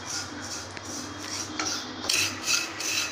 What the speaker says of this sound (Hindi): सिवैयाँ को भी हमने भून लिया है घी में।